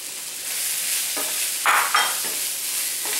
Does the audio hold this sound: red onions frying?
yes